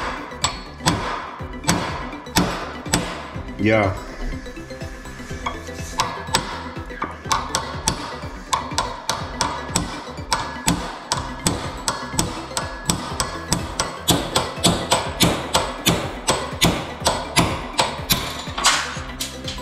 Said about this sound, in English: So let's hit the pin bolt out.